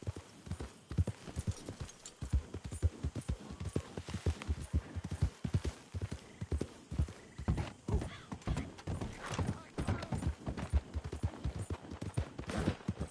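Horse hooves clip-clopping at a steady walking rhythm in the video game Red Dead Redemption 2, close and clear, with no talk over them.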